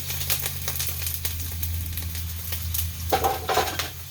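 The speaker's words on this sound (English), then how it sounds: "She is cooking down out here. This stove cooks really hot." Food cooking on a very hot stove, a steady sizzle near at hand with scraping and clinking of a utensil stirring in the pan, no talking.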